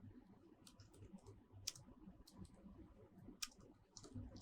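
Keys clack quietly on a computer keyboard during a socket programming lecture, a loose run of light clicks with a few sharper, louder strikes, over a faint low room hum.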